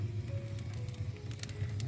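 Shashlik meat sizzles on a grill over a high open fire outdoors on a very hot day, a steady soft crackle and hiss with scattered pops, close by and fairly quiet, with no talking.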